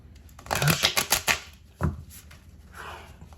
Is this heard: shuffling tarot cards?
yes